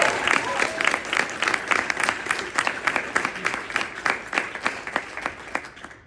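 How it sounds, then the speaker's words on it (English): Conference audience at a trauma-focused health gathering claps for the presenters and keynote speaker, a full room of steady, slightly ragged applause that gradually thins toward the end. "let's take a moment to give a round of applause to yesterday's presenters and our incredible keynote"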